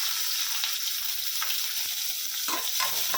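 Onions sautéing in hot oil with mustard seeds, cumin and curry leaves for a Tamil potato fry, a steady close sizzle with a few spatula scrapes and stirring clatters, no talk.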